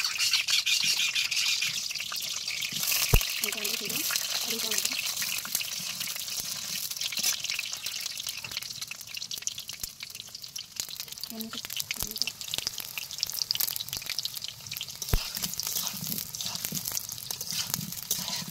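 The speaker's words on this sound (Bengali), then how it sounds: "এই যে আমি একটা করে আলু ছেড়ে দিচ্ছি তেলে দিচ্ছি।" Potatoes dropped one by one into hot oil on a clay stove, giving a continuous loud hissing sizzle with a few sharp clicks, and a voice murmuring faintly underneath at times.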